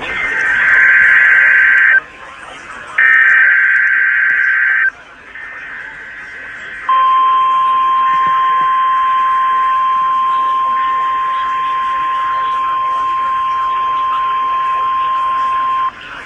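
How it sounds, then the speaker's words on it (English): A NOAA weather radio broadcast from the National Weather Service in Duluth, Minnesota sounds its public warning alarm tests: loud two-tone warbling bursts with short gaps, then a long steady high alarm tone holding for about nine seconds. "We have just activated the public warning alarm tone."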